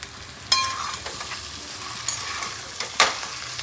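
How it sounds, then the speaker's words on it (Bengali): Meat being sautéed in a pan at home, a continuous close sizzle broken by a few sharp spatula knocks and scrapes as it is stirred, with no voices. "মাংসটা বেশ খানিক্ষণ কষিয়ে নিলাম"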